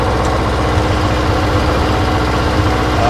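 A Ford 2N/9N/8N tractor engine runs steadily at raised throttle to work the hydraulic lift, a loud, close, continuous low mechanical drone with even vibration and no voices.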